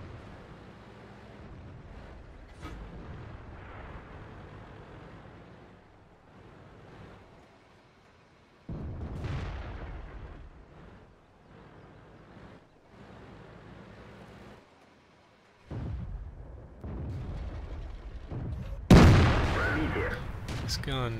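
Heavy tank cannon shots from an IS-3 in World of Tanks on the Swamp map: a few loud, deep booming blasts at scattered intervals, the sharpest near the end, over game ambience and speech.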